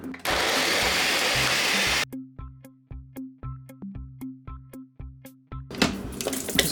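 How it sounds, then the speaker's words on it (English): A kitchen blender whirs loudly and steadily while mixing a strawberry mango smoothie with milk, then stops; a series of short pulsed bursts and clicks follows before the motor roars up again at the end. "So I have my blender ready,"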